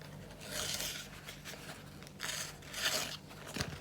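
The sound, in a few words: knife cutting paper towel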